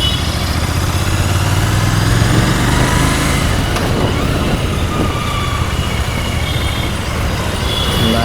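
A Royal Enfield GT 650 motorcycle engine runs steadily at close range, a loud continuous rumble with no talk over it.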